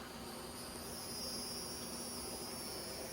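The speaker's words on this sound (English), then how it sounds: "I hope you could hear those crickets." Crickets chirp in a Florida garden on a summer night, a steady high trill carrying on without a break at a low, even level, with faint background hum beneath.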